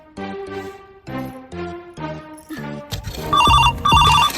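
A telephone rings in a repeating electronic ringtone pattern, several bursts in a row growing louder toward the end, in a rural household setting with no one talking over it.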